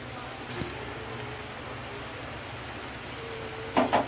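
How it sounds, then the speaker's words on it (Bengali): Rain beginning to fall outside a home kitchen on a dark daytime, a steady soft hiss of drops throughout with a couple of brief louder knocks near the end. "ওই বৃষ্টি আরম্ভ হয়ে গেছে, দেখতে পাচ্ছ।"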